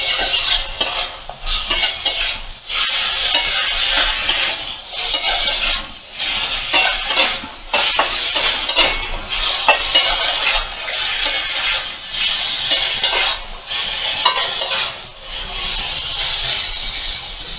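Ridge gourd pieces stirred in a hot pan for a malai curry, loud rhythmic scraping of a metal utensil in waves over a constant sizzle, with no voices.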